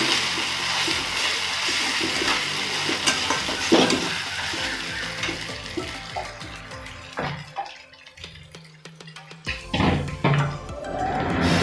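Ginger garlic paste stirred as it fries in a pan for cashew prawn curry, with sizzling and spoon scrapes up close, fading to a quieter stretch before a final louder burst.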